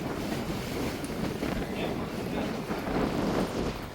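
Sea waves and wind on the coast on the way toward Rameswaram make a broad, continuous rush with gusty wind buffeting the microphone, steady and fairly faint.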